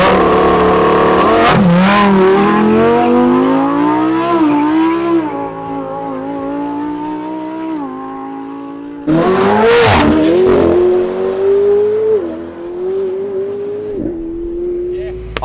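Loud engines of a Toyota Supra and a Ferrari 488 Pista roar and rev hard as the cars launch in a drag race, pitch climbing steadily through gears, then a second surge of acceleration; faint voices underneath.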